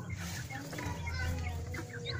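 Joper chickens cluck in a farmyard, a run of short, chirpy calls that overlap one another at close range over a steady low hum.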